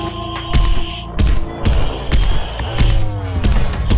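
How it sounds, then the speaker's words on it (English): Heavy, booming footsteps of Mr. X in Resident Evil 2 thud at a slow, steady pace, about one stomp every half second, loud and close over a low droning musical backdrop. "when you hear that thumping and you hear that music, you know Mr. X is on your tail"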